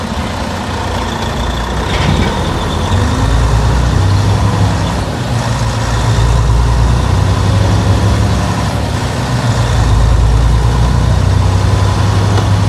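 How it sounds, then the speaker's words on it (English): A semi truck's diesel engine runs steadily inside the cab during a highway drive, a loud, continuous low rumble with a constant drone and no talking. "I'm splitting the audio from the mics, so you can hear the engine noise and me speaking"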